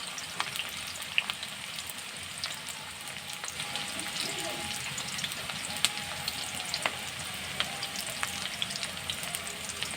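Onions fry in hot oil for a pabda fish chochchori, producing a dense, crackling sizzle that runs for the full ten seconds, scattered with small popping spatters and faint stirring, close to the pan.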